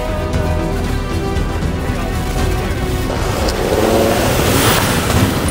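A van drives at full speed through deep mud off-road, its engine roaring steadily close by with rushing, splashing noise building toward the end, no talking.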